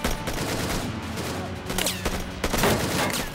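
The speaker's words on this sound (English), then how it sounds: "The SWAT members open fire." Heavy gunfire as SWAT officers shoot at gunmen during a takedown, rapid overlapping shots in dense bursts with sharp cracks toward the end, loud and close.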